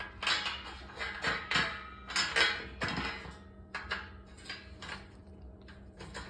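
Metal carriage bolts, washers and nuts clink and rattle as they are handled while assembling a JUKI DDL-8700 industrial sewing machine, a close run of bright metallic jingles and taps with brief pauses between.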